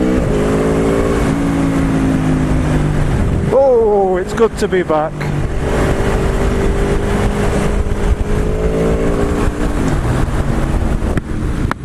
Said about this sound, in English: they really just don't do justice to how good this bike sounds